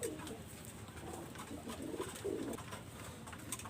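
Teddy Golden pigeons coo in soft, repeated low rolling phrases, close and clear over a steady background hum.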